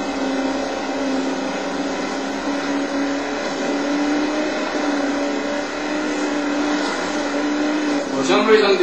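An off-road race car in the Baja Cabo 500 stage of BAJA Edge of Control drones at steady high revs throughout, a loud continuous engine whine with a brief rough burst near the end.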